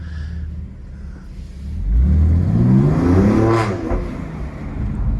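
A BMW M2 CS fitted with a Milltek exhaust pulls away hard, its engine note climbing through a rising rev sweep into a loud, raspy roar before easing slightly, heard close by.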